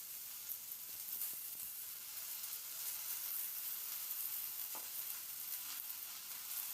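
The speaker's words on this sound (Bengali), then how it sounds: "এরপর আমি এখানে কেটে রাখা পালং শাকটা দিয়ে দিচ্ছি।" Chopped spinach sizzles steadily as it fries in a pan with vegetables, a continuous hissing crackle with a few soft stirring knocks.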